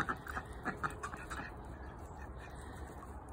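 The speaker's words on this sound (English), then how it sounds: "I love my ducks." Backyard ducks on a morning at a poultry yard, quacking faintly in short overlapping bursts against steady background noise.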